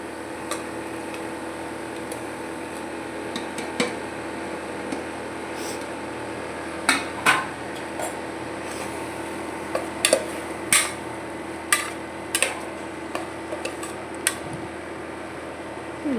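Spoon scraping and clinking against a pot as marinated chicken, fried in oil with ginger-garlic paste and onions, is stirred in; sharp intermittent metallic taps over a steady kitchen fan hum, no talk.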